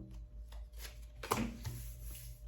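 Kipper cards are shuffled by hand, giving soft papery riffling and sliding strokes with one sharper slap of cards near the middle, close and quiet under a low background hum.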